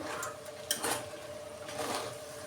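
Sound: stirring raw banana fry in pan after adding salt

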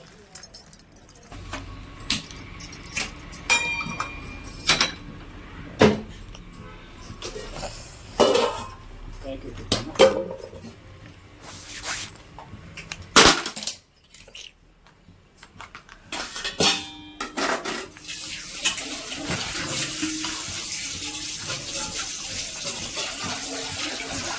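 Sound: mixing lentil vada batter with rice flour in a bowl

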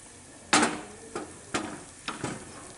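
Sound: frying egg-milk flour cakes in hot oil

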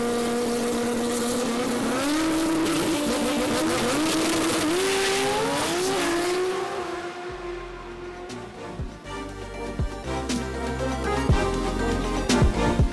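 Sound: Ford Barra-powered drag car engine revving

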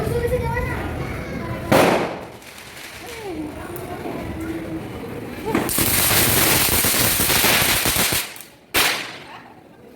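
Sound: firecrackers bursting

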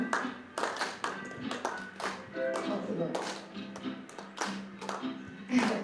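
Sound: audience clapping along to an upbeat song

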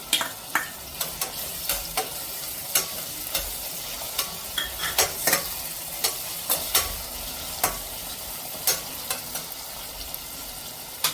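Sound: onion and tomato sizzling while frying for pulao

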